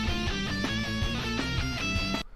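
Heavy metal medley of Final Fantasy battle themes, with loud, dense distorted guitars and a driving rhythm that cut off abruptly near the end.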